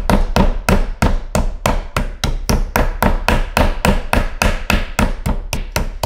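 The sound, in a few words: pounding chicken breast flat with a meat mallet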